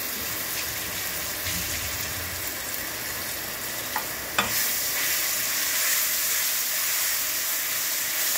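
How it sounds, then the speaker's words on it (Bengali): Garlic frying lightly in a pan gives a steady, close hiss and sizzle, with a couple of brief knocks from the utensil partway through and no speech. "রসুনটা অল্প ভাজবো"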